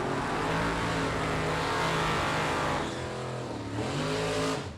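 Jim Clark's Oldsmobile drag race car launching hard off the line at a Super Pro drag event, a loud, close, roaring engine blast that holds steady and then fades slightly near the end.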